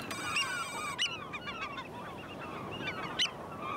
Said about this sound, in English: That's the oyster catcher.